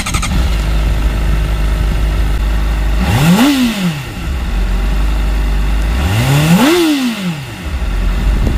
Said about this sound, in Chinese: 所以大家听一下发动机声浪